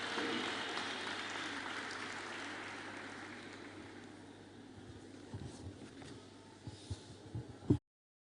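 Applause from the audience at a graduation ceremony fills the hall, steady and broad at first, then slowly thinning toward a few scattered louder claps before it cuts off.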